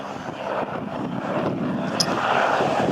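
A Fieseler Storch propeller airplane flies away to the right, giving a steady broadband engine and propeller drone that stays fairly loud throughout with no voices over it.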